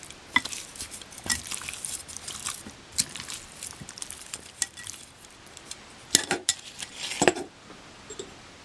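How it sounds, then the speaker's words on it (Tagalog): Chicken being mixed with ground black pepper and salt in a bowl, giving irregular clinks and scrapes of utensil against dish along with soft wet patting sounds, close and fairly quiet, with no voices. "i-season natin ng ground black pepper and salt. Paghaluin lang po natin mabuti ito."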